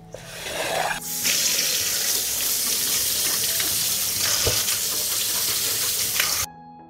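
Fresh tomatoes being washed under a running kitchen tap: a loud, steady rush of water hitting fruit and sink for several seconds, then cut off abruptly.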